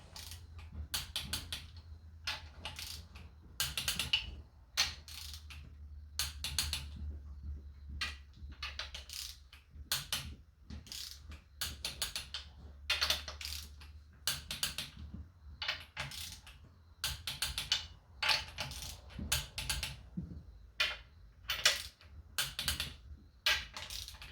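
Ratchet clicking repeatedly while cylinder head bolts are torqued down on a supercharged 392 Hemi engine fitted with MMX ported heads, bursts of sharp clicks in steady rhythm, close and alone.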